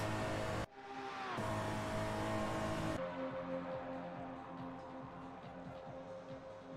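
Race cars running side by side in a slipstream on the Nordschleife in a racing game, a sustained engine drone with steady harmonic tones and abrupt cuts, fairly faint and without voices.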